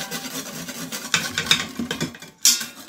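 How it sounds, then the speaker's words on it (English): Garlic cooking in a pressure cooker insert for beef stew, a soft close sizzle with scattered scraping and clinking of a utensil against the metal insert, a few sharper knocks standing out. "But wanted to just cook that garlic for a few seconds."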